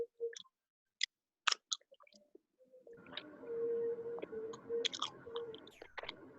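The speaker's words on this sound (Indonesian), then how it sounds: "Ada yang ngunyah, jangan kenceng banget." Someone chews food close to a microphone during an online maths class: a few sharp wet clicks and smacks at first, then a steadier run of moist chewing noise, with no talk.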